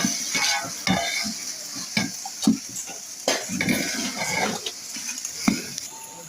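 Ginger garlic paste frying with a ladle for Tamil Nadu style biryani, a steady sizzle under repeated scrapes and clinks of the ladle against the pot, close and moderately loud.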